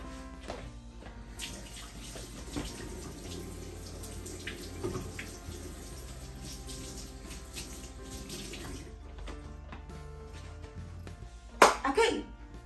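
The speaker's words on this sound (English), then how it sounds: "I'm gonna wash my hands and then we'll continue with the rest of the food." Tap water runs steadily from a faucet at a sink for hand washing, a broad continuous wash with a few small knocks and splashes near the end.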